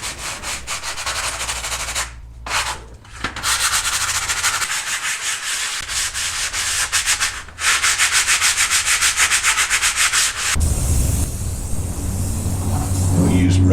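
A grinder grinds rivets off a Buick Skylark car door panel, a loud close harsh rasping whine with brief pauses and a shift in tone near the end.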